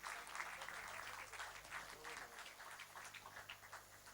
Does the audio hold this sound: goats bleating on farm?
no